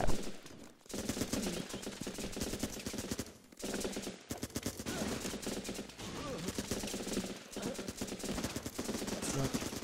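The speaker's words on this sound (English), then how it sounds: "I shot him like 6 times" Sustained automatic rifle fire from the war game Running with Rifles, dense rapid bursts with brief pauses, loud and close throughout, with a voice faintly mixed in.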